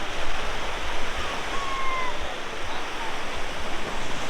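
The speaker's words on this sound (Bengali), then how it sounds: "এই জায়গা দেখো এখন সমুদ্রে সেরকম ঢেউ নেই, কারণ যেহেতু এখন ভাটা পড়েছে" Gentle sea waves wash onto Digha beach at low tide, a steady, loud hiss of surf with no distinct breaking crashes.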